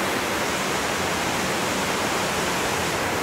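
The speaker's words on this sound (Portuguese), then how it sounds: "Onde desce a água da cachoeira." Waterfall water pouring over rocks near Miguel Pereira, a steady, dense rush of broadband noise that stays constant and fairly close throughout, with no voices.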